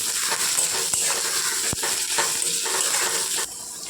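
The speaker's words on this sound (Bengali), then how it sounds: "পেঁয়াজটা একটু ভেজে নেব।" Onions fry steadily in hot oil with a close, continuous sizzle, broken by a few scraping stirs and light clicks of a utensil against the pan, with no talking.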